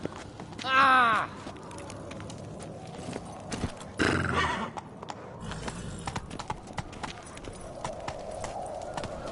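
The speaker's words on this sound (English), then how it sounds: "Whoa there, Roach." Hooves clip-clop and a horse neighs twice in a video game, short loud whinnies standing out over quieter hoofbeats and background game ambience.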